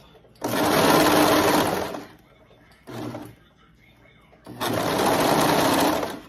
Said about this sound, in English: I'm gonna let the sewing machine cut it off.